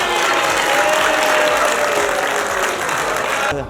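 Dense, steady clapping from a crowd at a rock-climbing event runs loud and continuous for nearly four seconds, with a faint thin tone threading through the middle before it cuts off abruptly.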